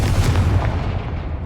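A booming fire-spell blast from the Confringo charm in the video game Hogwarts Legacy, a loud low rumbling explosion that fills the moment and then tails off.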